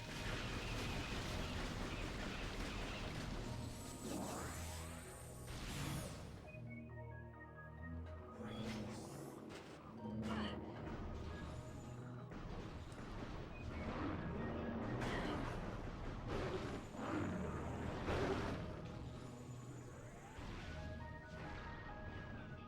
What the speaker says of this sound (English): Seed bursters. Exploding swarms of plant forms.